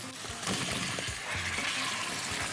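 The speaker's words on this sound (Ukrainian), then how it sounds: "І починаємо смажити цибулю." Onion and potatoes sizzle and crackle steadily in a hot frying pan, with occasional stirring scrapes, close and moderately loud.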